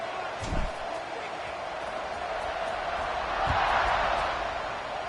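A stadium crowd in a college football video game roars steadily after a scoring drive against South Carolina, a dense distant wash of cheering that swells slightly near the end.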